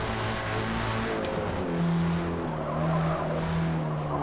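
A Forza Edition race car in Forza Motorsport hums through a sharp turn at Watkins Glen in light rain, tires squealing faintly under the steady engine drone, which swells in pitch partway through.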